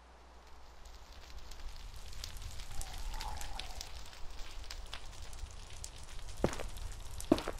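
Rain patters steadily in a modded video game adventure, a soft, even hiss of drops with a few sharper ticks, fairly quiet and continuous with no voices.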